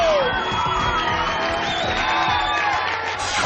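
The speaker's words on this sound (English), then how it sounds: "Big round of applause, guys" A motocross awards crowd at the 2003 Canadian National in Walton cheering, whooping and clapping loudly for a champion, with shouted yells rising over the continuous roar throughout.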